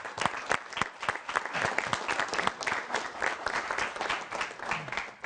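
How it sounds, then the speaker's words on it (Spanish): A studio audience applauds steadily for a guest on a televised interview show, a dense, continuous wash of many hands clapping close by, sustained evenly for over five seconds. "Por favor, un aplauso"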